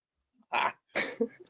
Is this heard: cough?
yes